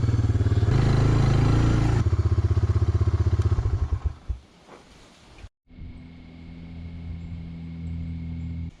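A 1988 Honda TRX300 Fourtrax 4x4 ATV runs loud and close with a steady engine drone that fades over several seconds, then a quieter idle hum continues after a brief gap.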